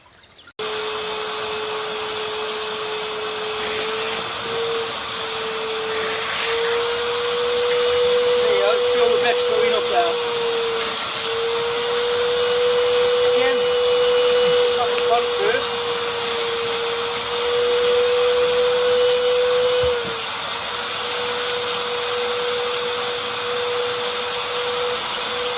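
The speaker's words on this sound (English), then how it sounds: "Next I'm going to vacuum the base of the pond." A pond vacuum runs steadily while cleaning the base of a koi pond, a constant motor drone with a sustained tone that holds for about twenty seconds, then shifts slightly as the suction changes.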